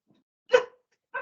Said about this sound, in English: My dog has a lot to say about this topic.